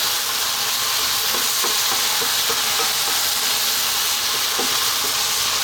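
Ground beef and noodles stir-fry in a pan with a loud, constant hiss and sizzle, close up, with faint scattered clicks of stirring and no talking.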